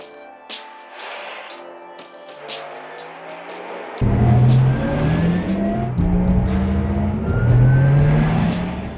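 A Porsche Taycan electric sports car hums and whines as it speeds up, a synthetic-sounding rising tone that swells louder halfway through and keeps climbing in steps.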